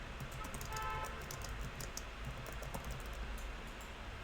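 Keys on a computer keyboard are tapped in quick, irregular bursts, close and fairly soft, over a constant low hum.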